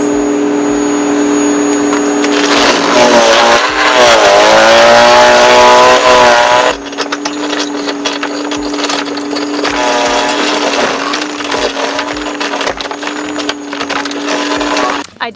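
A Bosch AXT Rapid 2200 electric shredder runs loud and close, its motor whining as it chews through branches, with crackling and splintering that rise and drop in pitch as the load changes.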